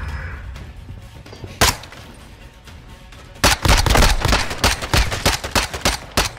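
Rapid automatic gunfire in the shooter Call of Duty Modern Warfare 2, Cyber Attack mode: an isolated sharp shot, then a dense burst of loud, closely spaced cracks.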